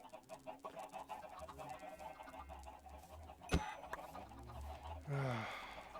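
Video game chickens clucking softly amid a busy, low-level game soundscape, with a sharp click and a brief bird-like squawk near the end.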